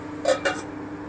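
A metal lid is set back onto a cooking pan, making two quick close clinks, alone against a steady low hum.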